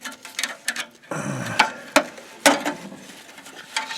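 A roughly 100-year-old screwdriver is turned to tighten a part while fixing a rattle under a Subaru Outback, giving close clicking and ratcheting metal ticks in uneven bursts, with no talking.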